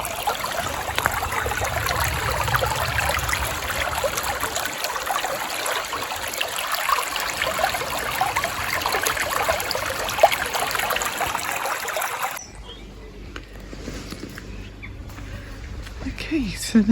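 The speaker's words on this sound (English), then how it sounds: "And the sound of the water," Water trickling and burbling along a shallow countryside stream in England, a steady broadband babble that stops abruptly near the end, with speech over it.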